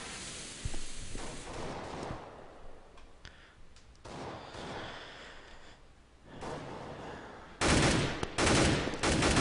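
Gunfire from Counter-Strike on the de_train map: scattered rifle and pistol shots crackle through the mix, with dense bursts of rapid fire near the end; no voices are heard.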